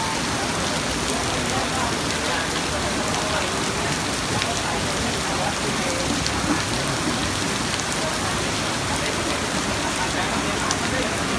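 Heavy rain falls steadily and loudly throughout a haircutting lesson at a hairdressing school near Sanam Luang, a dense, unbroken patter with no pauses.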